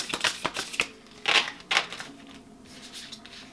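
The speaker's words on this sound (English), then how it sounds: "I have to do it this way because my hands are too small to shuffle these without doing it vertically." Tarot cards shuffled vertically by hand, a run of crisp riffling bursts and soft card slaps close by, with quieter shuffling toward the end.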